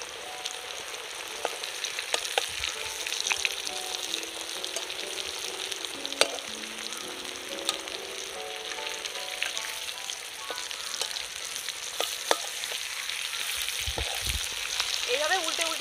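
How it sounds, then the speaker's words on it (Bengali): Spiced potatoes for egg biryani fry in hot oil in a pan, giving a steady close sizzle with occasional scraping and clinks as they are turned, while someone speaks quietly. "এইভাবে উল্টে উল্টে ভালো করে ভেজে নিলে কিন্তু সেই আলু বন্ধুরা খেতে খুব সুন্দর লাগে বিরিয়ানির মধ্যে"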